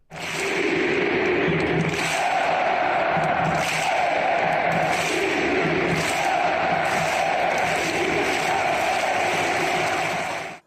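Some 75,000 Atlanta United fans chant and cheer in a packed stadium, a dense, steady roar with rhythmic swells of voices throughout.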